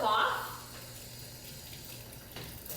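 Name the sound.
rinsing hands under running tap water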